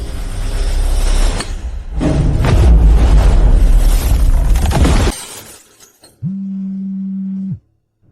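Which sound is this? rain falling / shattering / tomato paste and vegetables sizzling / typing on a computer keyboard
shattering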